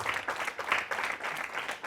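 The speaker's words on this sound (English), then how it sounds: "please give them a round of applause" An audience claps steadily for workshop facilitators at a roundtable event, a dense, continuous wash of applause at moderate level lasting a couple of seconds with no talk over it.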